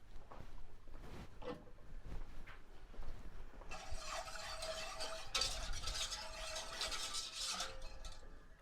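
A white sauce seasoned with nutmeg is stirred in a pan, soft scraping at first, then a louder, denser sizzling and bubbling with rhythmic utensil strokes filling the second half.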